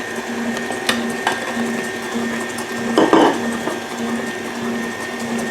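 An electric stand mixer whirs steadily as it beats cake batter, its motor hum running continuously with a few clicks and a brief louder clatter partway through, with no talking.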